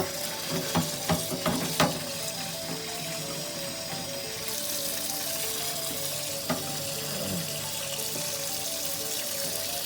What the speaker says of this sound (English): we're going to scrub the bejesus out of this to get all that paint off